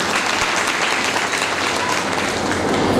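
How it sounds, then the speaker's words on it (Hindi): A large audience at a rural community program in Mandla gives loud, sustained applause, a dense and even wash of clapping with no break. "एक बार जोरदार तालियों से आपका सम्मान करता हूं"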